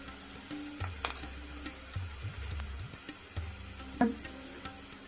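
Curry leaves and turmeric frying in a pan, a low steady sizzle with a few sharp crackles and clinks of a utensil, no voices.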